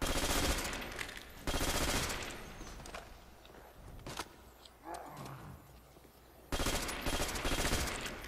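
A gun in the Call of Duty: World at War Nazi Zombies mode fires sustained automatic bursts, loud and close, with two long volleys separated by a quieter stretch that carries scattered shots and growling zombie noises.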